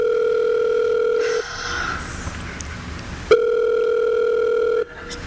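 A telephone ringing unanswered on the line, heard as two loud, steady, buzzing ring tones separated by a pause, as from the caller's end of an old phone line.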